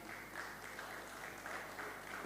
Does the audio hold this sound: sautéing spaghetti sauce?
no